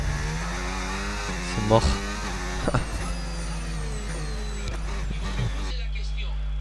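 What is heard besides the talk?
F1 car engine at Hungarian GP, from video game F1 25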